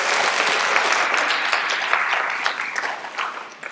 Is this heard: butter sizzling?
no